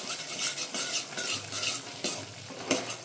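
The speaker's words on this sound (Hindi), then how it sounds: "इधर भगोनी में पेस्ट हम भूंज रहे हैं" Tomato and chickpea paste roasting in a pot for a no-onion, no-garlic chole aloo curry: a steady close sizzle with repeated scraping stirs of a spoon against the metal, and no voices.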